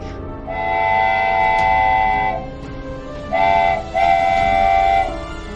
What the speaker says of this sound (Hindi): कुछ देर बाद गाड़ी ने सीटी बजाई